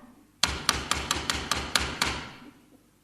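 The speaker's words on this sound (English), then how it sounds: "Sounds like her knock." Eight sharp, evenly spaced knocks on a door in a radio comedy ring out close and clear, with a short fading resonance after the last rap.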